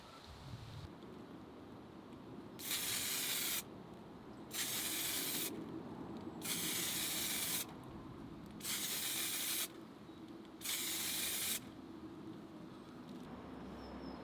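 Spray paint can applied to a guitar headstock during an Epiphone headstock conversion: five separate hissing bursts of a few seconds each, evenly spaced with short pauses, close and steady over a low room rumble.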